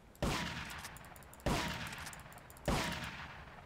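Three loud shotgun blasts from Grand Theft Auto 3: Definitive Edition, evenly spaced about a second apart, each a sharp boom followed by a long echoing decay.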